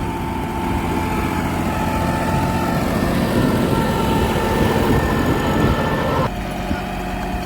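A New Holland 5620 CRDI tractor's diesel engine running steadily at working revs, a loud, continuous low rumble and drone close by, with a slight drop in tone near the end.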